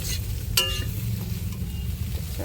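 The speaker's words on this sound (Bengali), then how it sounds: "দিয়ে ভালো করে নাড়াচাড়া দিয়ে দেবো" Water lily stems and shrimp stir-fried in a pan, a steady sizzle with a sharp clink of a utensil against the pan near the start and light scraping after, no voices.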